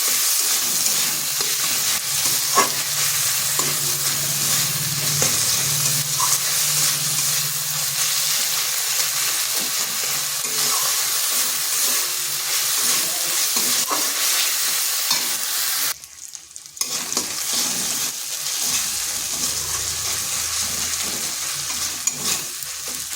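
Chopped tomato and onion frying in a pan with salt, with a loud, steady sizzle that runs throughout, occasional stirring scrapes, and a brief drop in the sound partway through before the frying resumes.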